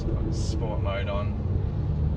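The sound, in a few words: car engine while driving in sport mode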